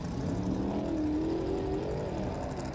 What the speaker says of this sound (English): Greg Adler, Mr. Four-Wheel Parts, looking fast, looking smooth in that IFS machine